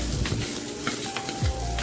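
Close, crackling sizzle of ground tomato paste poured into a pan of fried onions, with a brief stirring scrape.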